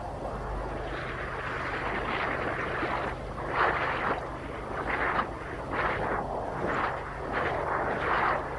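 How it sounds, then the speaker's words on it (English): A steady rushing, roaring hiss of a high-pressure water jet surging through an underground rain gutter drain pipe, with pulsing swells in intensity; no talking. "I can hear the jet in the ground."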